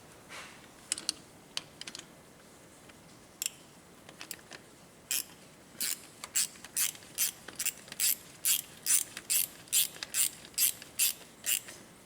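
A ratchet socket wrench tightens a bolt on a John Deere 2355 tractor during a fuel pump replacement, with sparse clicks at first that grow into a quick, regular run of sharp close ratchet bursts.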